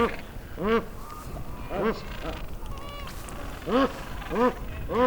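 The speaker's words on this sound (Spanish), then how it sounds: "Los cormoranes de Georgia son ahora su tripulación." South Georgia cormorants nesting on the deck of the old whaling ship Bayard give repeated harsh, honking calls in short bursts. The calls sound close and loud over a steady windy background.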